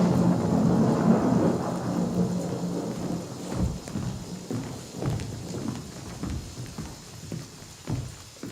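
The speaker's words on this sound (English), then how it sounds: "Come out of the storm!" Thunderstorm with steady rain as a stage effect in a King Lear performance: a dense rain hiss under rolling, rumbling thunder that swells and fades across the clip, with scattered sharper cracks and no voices.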